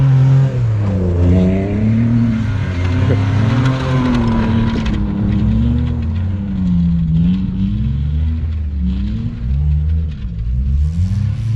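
A BMW E36 Compact drifting on a winter track revs hard and holds high, wavering engine notes that rise and fall as the throttle is worked, loud and close throughout.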